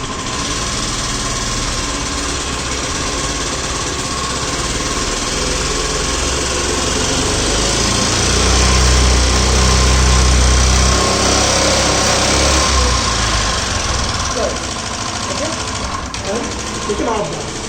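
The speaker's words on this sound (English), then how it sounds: "You can see the back wheel will run with the petrol power here." The petrol motor of a retrofitted hybrid scooter drives the rear wheel with a steady, buzzy, high-pitched drone that swells a little partway through. A voice talks over the engine noise.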